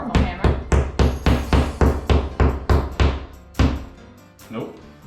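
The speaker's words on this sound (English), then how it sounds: "Something to tap these anchors into the wall." A small hammer end on a multi-tool taps plastic anchors into a bathroom wall, about a dozen sharp, evenly spaced knocks ringing close and loud, slowing and fading to a couple of softer taps near the end.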